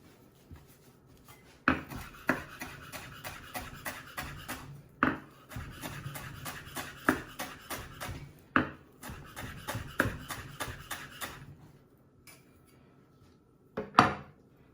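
Coriander being chopped with a knife on a board for a sauce: a steady run of sharp, close taps in quick rhythmic bursts, broken by short pauses and a final louder knock.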